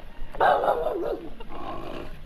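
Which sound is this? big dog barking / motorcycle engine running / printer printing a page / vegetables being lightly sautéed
big dog barking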